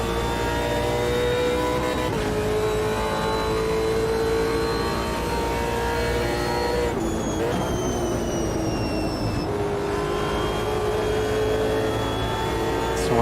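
A race car engine in Automobilista 2 screams at high revs in a sustained, loud drone, hitting the limiter and briefly dropping pitch through gear shifts, with other cars' engines layered close by.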